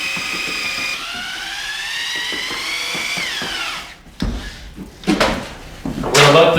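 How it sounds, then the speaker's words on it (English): A half-inch drill fitted with a large paddle mixer whirs steadily as it stirs joint compound for drywall taping, a continuous motor whine that stops partway, followed by scattered clanks and knocks. "I chuck a large paddle mixer into my 1/2-inch drill and stir until smooth"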